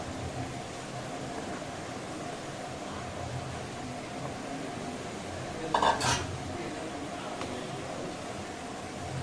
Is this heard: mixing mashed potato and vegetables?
yes